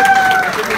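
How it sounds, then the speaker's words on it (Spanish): A festival crowd in Dallas claps and cheers for a girl who won first place, a brief, loud, continuous burst of applause with a faint voice over it. "¿Dónde están los aplausos para la niña que ganó el primer lugar?"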